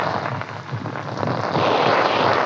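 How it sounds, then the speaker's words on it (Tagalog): Heavy rain pours down at the seaside in a steady, dense hiss with spattering on surfaces, swelling louder toward the end, with no voices. "Grabe, ang lakas talaga ng ulan"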